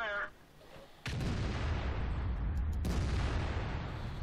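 A T95 tank destroyer's cannon in World of Tanks on the Sand River map fires with a sudden heavy boom, followed by a long rumbling roll of engine and battlefield noise at steady loudness.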